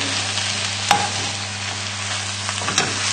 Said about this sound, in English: the spinach is just starting to wilt down now, and you see there's a full pan to start off with